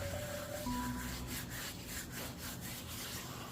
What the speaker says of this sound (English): I'll rub in this salt